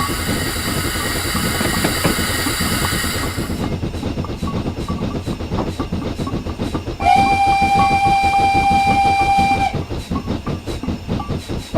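A steam locomotive whistle sounds in Train Simulator 2016, a steady multi-tone blast over rolling train noise, then a second sustained high whistle later, loud and close above the rhythmic clatter of the wheels.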